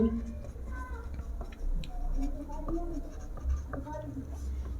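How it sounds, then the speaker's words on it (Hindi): Chalk or marker tapping and scratching across a board while a math equation is written out, faint quick ticks and strokes heard under a teacher's steady speech. "तो इधर पे आप लिखेंगे"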